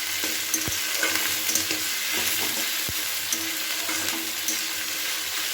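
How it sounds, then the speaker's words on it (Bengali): Prawn heads and garlic frying in a pan, a steady close sizzle broken by a few sharp scrapes and knocks as they are stirred. "এবার চিংড়ি মাছের মাথাগুলোকে ওতে দিয়ে দিলাম, দিয়ে একটু ভালো করে নাড়াচাড়া করে নিচ্ছি।"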